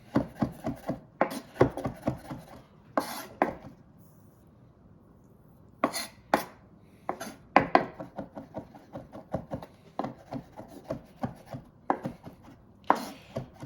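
A kitchen knife chops food finely on a board for a wedge salad: quick bursts of crisp, close tapping strokes separated by short pauses.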